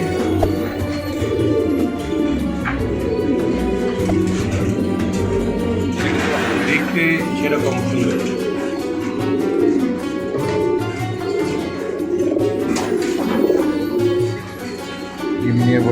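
Pigeons in a loft coo in low, overlapping murmurs that run steadily throughout, close and fairly loud, with occasional wing flutters and brief rustles among the birds.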